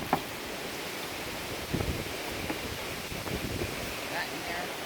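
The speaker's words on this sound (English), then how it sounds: "over the wind noise" Wind buffeting a microphone outdoors at a sawmill where English walnut logs sit on the mill, a steady broadband rush with occasional gusts, faint talk mixed underneath.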